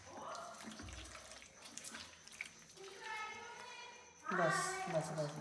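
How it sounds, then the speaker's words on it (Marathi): Water is poured into a chicken Kaul fry curry with cashew while cooking in a village kitchen, a faint splashing trickle mid-way and again near the end, with people talking over it. "पाणी टाकायला लागेल कारण ते कॅशू आहे ना त्याच्यात स्वीट असतं"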